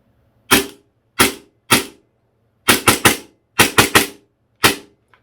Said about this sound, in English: So let's just put a few rounds through this.